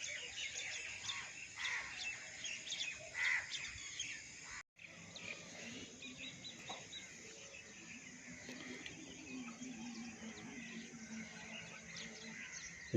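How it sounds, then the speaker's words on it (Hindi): Several birds chirp and tweet in overlapping calls at morning in a village, a lively chorus at mid distance, with a brief dropout partway through. "शायद आपको मुख्तलिफ परिंदों की आवाज़ें आ रही हों।"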